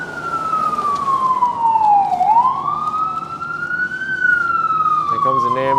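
Ambulance siren on a Bronx street near Pelham Bay and Westchester Square, loud and close, with one long wailing sweep that falls, rises and falls again as it passes, over traffic rumble, with a voice briefly at the end.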